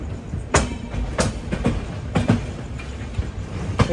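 A Chennai to Bengaluru Mail express train rolls along the rails with a steady rumble and periodic clickety-clack beats from the wheels passing rail joints.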